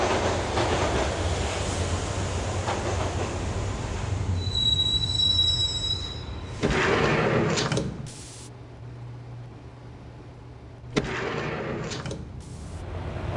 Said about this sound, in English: the train doors had already shut behind me, and I was in for the ride